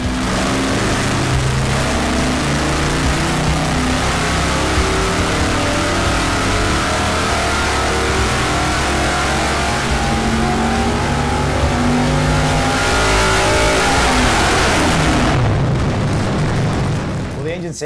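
A V8 engine fitted with a Dart top end kit and a hydraulic roller setup revs hard on a dyno toward about 6,500 RPM, a loud, continuous, close roar that holds steady and then winds down near the end.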